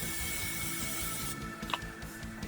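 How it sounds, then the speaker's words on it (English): A steady hiss of olive oil spray onto lamb chops in a pan runs for over a second, then cuts off, followed by a few soft clicks and faint rustling. "I will spray some olive oil"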